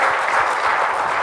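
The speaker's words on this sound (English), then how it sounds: "Let's give them a round of applause" An audience claps steadily at a panel on government social media marketing on an innovation stage, a dense and even round of applause throughout the brief moment.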